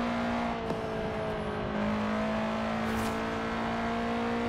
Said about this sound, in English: Listen how great that car sounds.